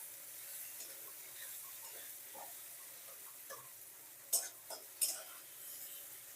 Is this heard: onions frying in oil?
yes